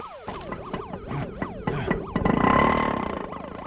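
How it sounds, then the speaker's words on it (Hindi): A wailing police siren sweeping up and down repeatedly, loud and close, shifting into a faster yelping pattern near the end. "पुलिस का सायरन है"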